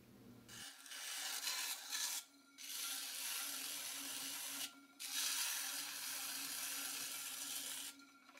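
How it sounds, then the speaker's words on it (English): Trimming tool scraping a slightly too dry clay pot turning on a pottery wheel, a steady dry rasping with brief pauses between passes, close and fairly quiet, no talking. "You can hear the pot is a bit too dry from the sound of trimming."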